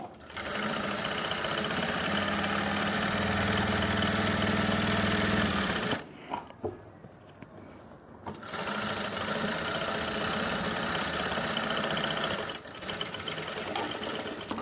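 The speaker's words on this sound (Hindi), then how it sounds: "इलास्टिक लगाने के लिए पीछे से मशीन को आपको खींचना पड़ेगा" An electric sewing machine stitching elastic onto the waistband of women's pants, running in a loud, steady whirring drone with brief pauses and restarts, close up.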